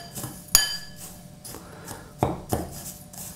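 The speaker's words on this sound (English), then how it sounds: "let's just really give that a quick mix" Breadcrumbs, herbs, parmesan and salt stirred together in a bowl, a few sharp clinks of utensil on the bowl between soft scraping sweeps, close and brief.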